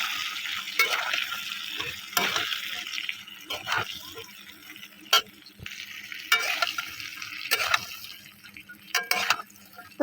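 Raw mango pieces tossed with salt, turmeric and chili powder in a pan for a sweet-sour pickle, stirred in repeated scraping strokes over a soft background sizzle, with no talking.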